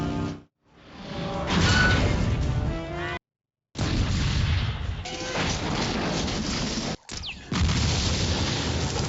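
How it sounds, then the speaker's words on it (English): Explosions from the action film Terminator 2: Judgment Day, a run of heavy booms and crashing blasts broken by brief silent cuts, loud and close, with someone briefly talking. "Great explosion."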